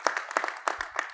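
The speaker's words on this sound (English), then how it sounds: "I think you should give him a clap for it." Light, scattered clapping from a small audience, uneven and sparse, with a few low bumps underneath.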